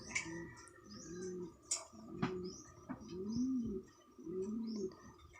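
A racing pigeon coos repeatedly in low, throaty, rolling phrases, close up, with a few faint chirps and small rustles in the background.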